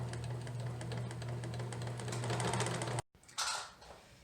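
A serger overlock machine stitches fabric for baby bloomers with a rapid, buzzing mechanical whir, fairly faint and steady for about three seconds, then stops, followed by a brief rustle of handled fabric.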